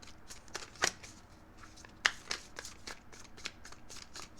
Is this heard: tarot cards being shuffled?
yes